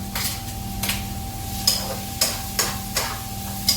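Garlic being stirred in a pan for Bicolano pinakbet, a spoon or spatula scraping and tapping the pan in a steady series of sharp knocks over a low hum, close and clear with no talking.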